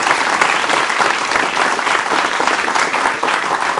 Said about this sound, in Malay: Tepukan kepada diri anda